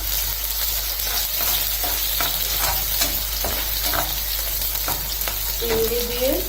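Chopped onion and whole garlic cloves frying hard in hot oil, a loud, dense, continuous sizzle with occasional stirring scrapes, close up, heard alone.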